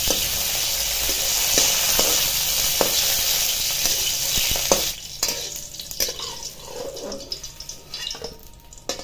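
Whole dried red chilies dropped uncut into hot oil, a loud, dense sizzle up close that eases into softer, crackling spatters and stirring scrapes in the second half, with no voices.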